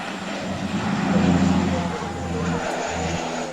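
A fire bomber aircraft flying at the Malta Air Show in 2000, a loud, steady propeller engine drone with a low tonal hum that swells and then holds through the clip, heard from nearby.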